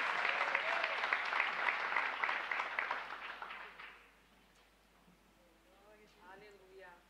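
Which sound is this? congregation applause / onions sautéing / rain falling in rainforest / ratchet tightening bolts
congregation applause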